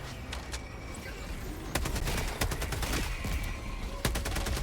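Rapid artillery barrage in Helldivers 2, with dense overlapping blasts and sharp cracks firing in quick irregular bursts over a constant rumble, loud and close.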